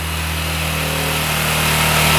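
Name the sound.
scooter engine revving after starting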